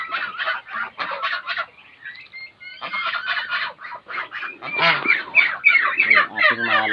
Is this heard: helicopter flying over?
no